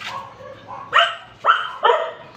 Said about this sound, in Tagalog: Oh, yung aking mga aso.